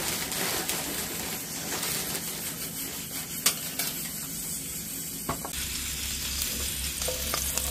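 Leftover food reheats in a home kitchen pan with a continuous close sizzle and frying crackle, a few stirring scrapes and clicks of utensils, no voices.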